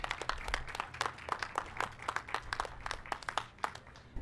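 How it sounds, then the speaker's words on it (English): Light applause from a small crowd at an outdoor Habitat for Humanity wall-raising ceremony, with distinct, fairly sparse claps continuing steadily for several seconds. "Please give her a warm round of applause."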